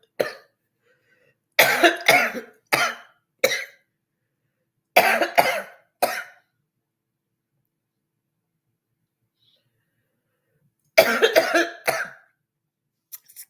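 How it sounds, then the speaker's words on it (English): Several bursts of harsh coughing come in short clusters, separated by stretches of silence, close to the listener. "I hope I don't have a coughing fit."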